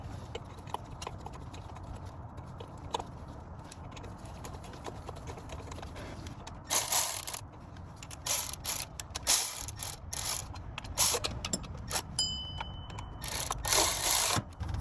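A ratchet clicks in short bursts while tightening timing belt tensioner bolts on a Toyota 2UZ-FE 4.7-liter V8, the close metallic clatter rising over quiet workshop background.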